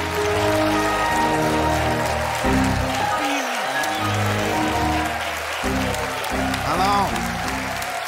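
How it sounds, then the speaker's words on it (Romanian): A studio audience at a Romanian comedy show applauds steadily and loudly throughout, a dense wash of clapping with some tonal sound mixed in. "să-l primim cu aplauze furtunoase"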